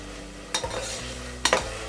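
Chopped tomatoes sautéed with ginger garlic paste for tomato rice, stirred with a spoon in a pan: two short scraping stir strokes over a faint, steady sizzle, with no talk.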